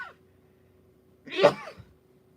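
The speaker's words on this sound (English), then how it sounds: "Oh, I'm going to sneeze." A single short sneeze bursts out in a quiet room, near and moderately loud, with a faint hum in the background.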